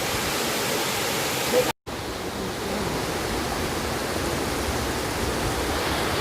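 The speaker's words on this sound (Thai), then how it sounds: "เดินไม่นานนะครับเพื่อนๆ ก็จะเจอน้ำตกอีกแล้วนะฮะ ไหลผ่านมาเลย" Waterfall flowing past a pagoda standing in the water at Mae Kampong, a steady, loud broadband rush that holds on throughout, broken only by a brief cut near the start.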